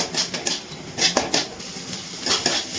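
Spice masala with salt and a splash of water being mixed and fried in a pan for chicken Mughlai paratha, with light scraping and clinking of a utensil against the pan in short irregular bursts.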